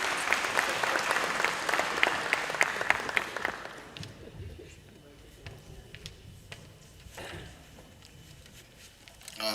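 An audience claps loudly at a school awards ceremony honoring top-performing schools and matriculants, a dense round of applause that fades after about four seconds, leaving scattered claps under a speaking voice.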